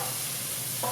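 Cayenne pepper and a pinch of cinnamon sauté in a hot pan for a spinach cauliflower curry, a steady, close sizzling hiss lasting about a second with no talking.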